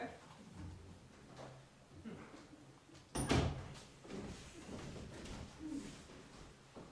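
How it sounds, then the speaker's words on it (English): A door shuts with a single sharp thud midway through a stage play performed by a community theatre group, followed by quieter room tone and faint voices in a hall. "Close the door."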